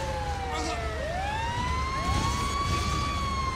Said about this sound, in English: We got fire trucks and an ambulance on the scene